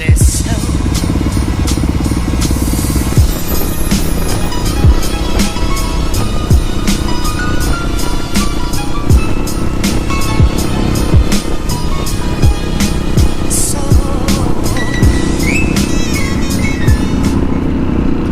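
A group of motorcycles, Harleys among them, rides along on a Christmas ride out, a loud continuous engine roar with constant road and wind noise close by.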